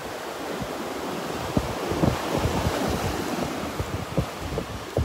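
Gulf of Mexico surf rolls and breaks steadily on the beach at Delnor-Wiggins on a morning walk, a continuous wash of water with sharper splashes and gusty wind rumbling across the microphone, no voices.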